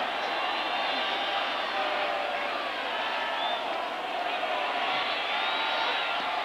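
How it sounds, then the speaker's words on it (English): A football stadium crowd roars in a dense, sustained wash of cheering that holds steady throughout, distant and unbroken, with no clear voice standing out. "Crowd getting into it. They're on their feet."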